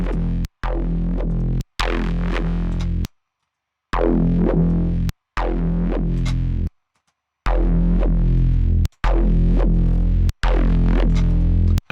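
A synth with its compressor placed before distortion plays repeated phrases in short bursts, sounding distorted and compressed, separated by brief moments of silence.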